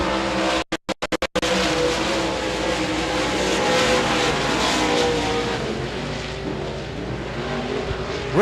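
USA Modified race cars roar around Devils Bowl Speedway, a dirt oval, with a loud continuous engine drone that swells and fades as cars pass, and brief dropouts early on.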